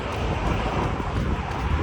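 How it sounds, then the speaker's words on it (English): Strong wind buffeting a microphone outdoors during a running interval workout, a loud continuous rumbling roar with no pauses and no talking. "Just a wee bit windy here"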